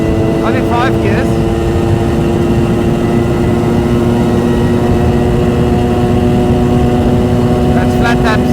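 Suzuki GT200 X5 motorcycle engine while riding, a steady loud drone with a constant pitch running the whole time, mixed with wind rush and a few faint speech-like bursts near the start and end.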